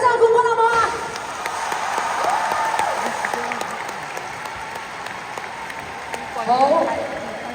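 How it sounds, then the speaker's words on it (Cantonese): An audience applauds the winner at the final of a middle-aged singing contest. The clapping is loud and sustained and swells again near the end, while a voice speaks over it through a microphone. "俾啲掌聲冠軍好唔好啊"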